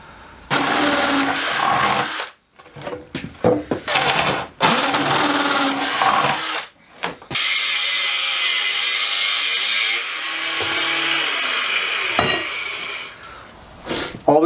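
A power drill bores a hole through a rainwater harvesting tank, giving loud, close, sustained whirring bursts broken by a few short pauses.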